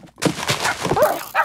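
Dogs (wolves) in Minecraft Super Smash Mobs give several quick barks and yips with whimpering, close and fairly loud, alongside game noise.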